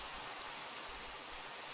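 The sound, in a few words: rain in a video game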